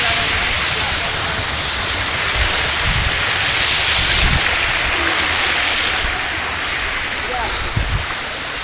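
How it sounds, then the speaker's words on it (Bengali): Water from the main stream of Khoiyachora Waterfall rushes steadily past nearby, a dense continuous roar and hiss with no break in intensity. "এটা হচ্ছে ঝর্ণার যে মূল পানিটা এদিক দিয়ে আসছে, এদিক দিয়ে এসে এদিকে যাচ্ছে।"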